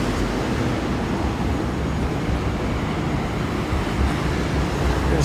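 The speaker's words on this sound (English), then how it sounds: "That's like a commuter rail train." A commuter rail train passes through Tokyo, a loud, steady broadband rumble and roar holding for several seconds with no clear breaks, heard from the street without talk.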